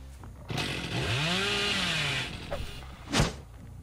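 Chainsaw revving in the horror game Dead by Daylight: a loud, sustained buzzing whine that rises and falls in pitch for about two seconds, followed by a short sharp crack, with no voices.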